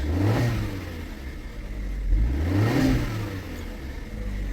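A Chevrolet Captiva engine, with a check-engine fault now fixed, revs up and down in swells, its low droning pitch rising and falling twice, close by with no talking.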